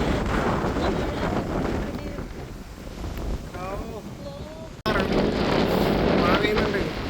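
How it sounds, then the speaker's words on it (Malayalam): Strong, gusting wind roars continuously across the microphone on the Madayipara hilltop as rain begins, with a brief cut near the middle and what may be a muffled voice under the buffeting. "കാറ്റ് എന്ന് പറഞ്ഞാൽ ഭയങ്കര കാറ്റ്, ഒരു രക്ഷയില്ല."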